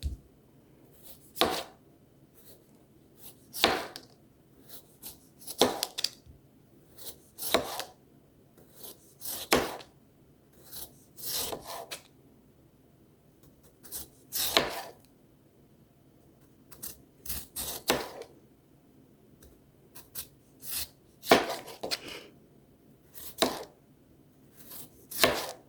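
A knife slices potatoes for au gratin on a cutting board in a series of sharp, close chops that fall at irregular intervals with quiet pauses between them, and no voices.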